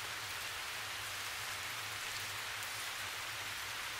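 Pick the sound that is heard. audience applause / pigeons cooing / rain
rain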